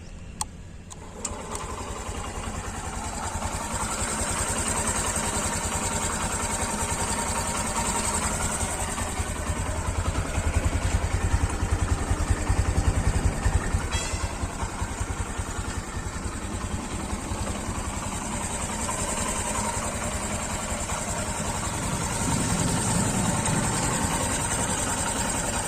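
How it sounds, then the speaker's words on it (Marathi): A Honda Shine BS6 motorcycle engine idles steadily with its exhaust note, a continuous even mechanical thrum heard up close and alone, holding the same rhythm throughout with a slight swell midway. "पहिले तुम्ही आयडल आवाज ऐकून घ्या, मग तो रेस्ट करतो थोडी."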